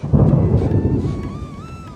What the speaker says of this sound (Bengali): ছাদে দেখা যাচ্ছে অলরেডি ঝিরিঝিরি বৃষ্টি পড়তেছে